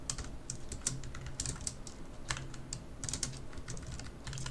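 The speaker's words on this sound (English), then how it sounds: "If you hate my typing, then just mute." Rapid, uneven keystrokes clatter on a computer keyboard while someone works in Blender, the bursts of clicks close and steady with brief pauses and no talking.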